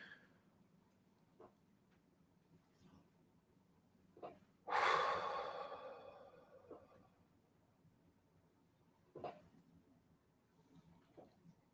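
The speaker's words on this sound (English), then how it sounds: "Let's take a deep breath in." A single deep breath drawn in during a calm, meditative session, a soft rushing inhale that swells and slowly fades, with faint small sounds and quiet breaths around it.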